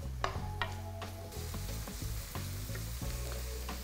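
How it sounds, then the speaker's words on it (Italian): Ham and onion browning in a pan for pasta with mascarpone and peas, giving a steady close sizzle with scattered stirring scrapes and clicks throughout. "il prosciutto è pronto e lo metto insieme alla cipolla. E faccio rosolare per un paio di minuti."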